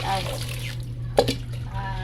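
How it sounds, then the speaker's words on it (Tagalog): Water is poured into a cooking pot to soak leftover rice before reheating, a short liquid trickle over a steady low hum, with a brief splash near the middle and indistinct speech around it. "Yan, lagyan ng tubig."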